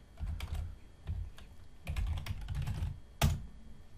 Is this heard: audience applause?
no